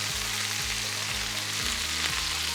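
Sliced onion and peppers sizzling in a hot pan for a chicken dish in peanut and honey sauce, a steady, fairly quiet frying hiss with a few soft stirring bumps.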